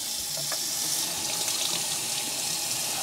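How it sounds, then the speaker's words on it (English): Tap water pouring steadily into the tank of a Bissell Little Green ProHeat pet carpet spot cleaner, a loud, continuous close-up rush and splash with no pauses. "We're gonna run some water in there."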